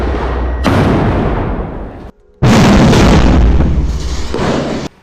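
Blasts from attacks on the Israeli army in Gaza: two long, loud, rumbling explosive bursts split by a brief near-silent gap, with no talking.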